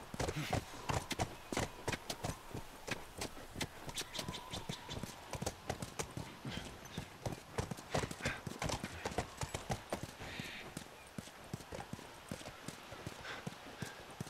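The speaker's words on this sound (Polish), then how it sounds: "Wskakuj na konia." Horse hooves clip-clopping in The Last of Us Remastered, a steady rhythmic run of hoofbeats close by for the whole stretch, with a brief whinny and faint background sounds.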